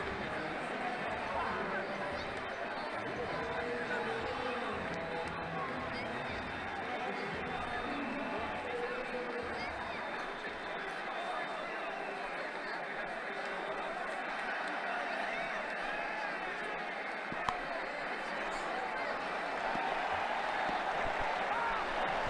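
A crowd in a 2009 India vs England cricket video game keeps up a steady, dense roar of cheering and clapping for the whole stretch, with no clear peaks or breaks.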